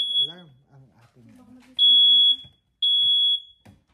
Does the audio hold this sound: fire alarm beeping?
yes